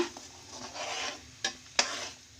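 A spoon stirs tomato thokku in a pan, giving a steady close scraping and sizzling texture broken by two sharp knocks of the utensil against the pan near the end.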